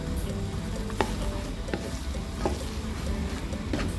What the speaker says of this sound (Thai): ต้นหอมลงเสร็จเราก็ผัดไปสักพอต้นหอมสุกเราก็จะปิด แก๊สเลยนะคะ